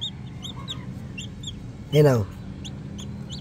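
A newly hatched Rhode Island chick peeps in short, repeated high chirps, with a single brief spoken word in the middle.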